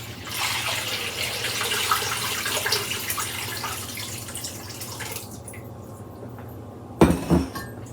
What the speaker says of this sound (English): I'm gonna just pour a lot of water in here for this chicken